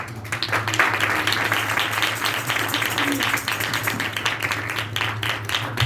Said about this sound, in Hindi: और यहां ताली भी मार कर जलाल दिया जाता है।